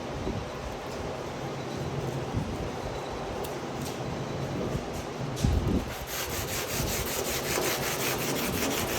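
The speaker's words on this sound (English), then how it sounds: "Now I use the straight block. I'll put some 80 on that." Hand sanding with a straight sanding block and 80-grit paper, likely on body filler, a steady continuous rasping rub with brief louder strokes, close and alone.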